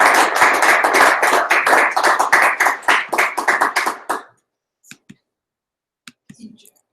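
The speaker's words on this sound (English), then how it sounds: "let's give Alex a round of applause." A small audience at a tech meetup's lightning talks claps for a speaker, a brisk burst of close hand claps lasting about four seconds before stopping abruptly, followed by a few faint taps and clicks.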